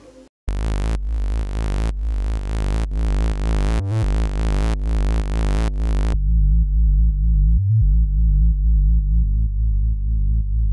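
Techno bass synth in Ableton Live 11 processed with tube saturation, chorus, limiter, delay and reverb, a loud deep droning bass pulsing in steady repeated notes that then continues as a sustained rumble.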